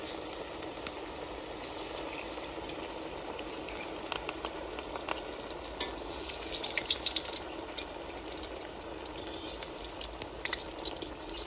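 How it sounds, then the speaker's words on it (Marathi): Green pea tikki fry gently in hot oil over a low flame, giving a soft, steady sizzle with scattered small pops and crackles throughout. "टिक्की ही आपली एकदम मंद आचेवर तळायची आहे."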